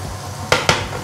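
Meat frying in a pan for stuffed peppers sizzles steadily up close, broken by two quick scraping stirs in the pan.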